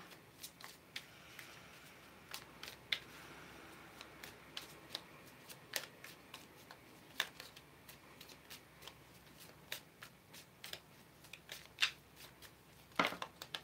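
Tarot cards being shuffled in a quiet room, a steady run of soft, papery riffles and light flicks with no one talking.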